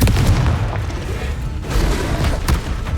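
The Confringo fire spell in Hogwarts Legacy, exploding in loud, dense booms that overlap with thick low rumble and crackle across the whole stretch, with other spell impacts mixed in and no voices.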